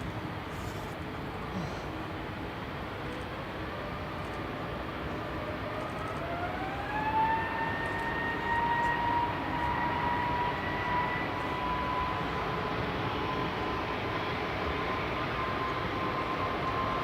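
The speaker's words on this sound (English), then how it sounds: "GUZEG on the roll, A320 Neo" EasyJet Airbus A320neo on its takeoff roll at Manchester Airport, a steady engine roar with a rising whine that climbs in pitch and then holds as the thrust builds, heard from a distance.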